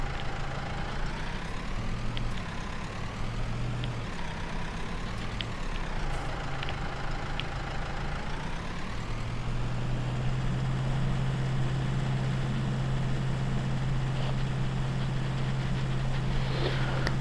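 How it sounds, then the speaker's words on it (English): A tractor in Farming Simulator 19 hauls a fully loaded trailer, its engine droning steadily and loudly throughout. The pitch rises and falls with the throttle, and faint clicks and creaks sit over the hum. "Quite a full trailer for this tractor to be pulling about."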